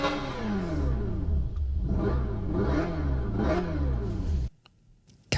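An electric car plays an artificial engine sound, a layered synthetic hum whose pitch rises and falls in repeated sweeps like revving, then cuts off abruptly near the end.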